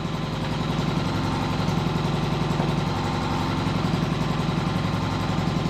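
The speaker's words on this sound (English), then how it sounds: "it's currently running on its own. I'm not helping it, it's running off the gas tank" Small gas engine idling with no muffler on a gas-powered Power Wheels ride-on build, a loud, steady, rapid chugging drone throughout, close by and with no talking.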